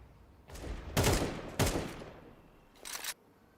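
AK rifle fire in Counter-Strike during a competitive esports match, with several loud, close bursts of shots separated by short pauses.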